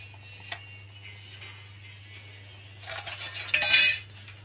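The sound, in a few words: fried shrimp added to banana flower curry in pot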